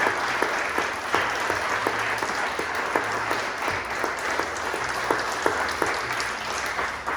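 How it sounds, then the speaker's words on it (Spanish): A church congregation applauding during a sermon, sustained dense clapping with a low steady hum beneath, at moderate distance. "Dale un aplauso al Rey"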